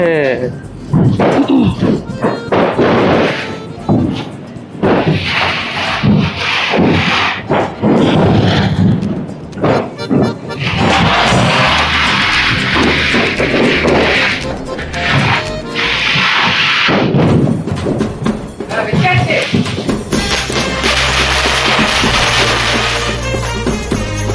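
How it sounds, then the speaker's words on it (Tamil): Diwali firecrackers and a big ground chakra spinning firework at a family celebration, with loud, dense cracks, bangs and fizzing bursts close by over a long stretch, while people talk and shout excitedly throughout. "நான் ரொம்ப பெரிய வெடி சங்கு சக்கரம் வைக்க போறேன்"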